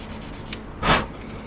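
Light rubbing of a sanding stick across a Star Trek Enterprise model kit part, soft rasping strokes close up with one louder scrape.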